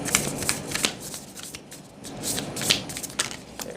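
Tarot cards are shuffled by hand nearby, with repeated crisp riffling bursts and soft slaps in an uneven rhythm, no talking.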